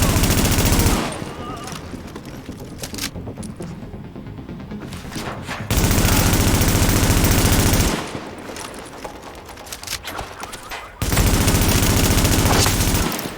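Heavy automatic gunfire in the video game The Division, long loud bursts of rapid shots alternating with quieter stretches, with game voices shouting over the action.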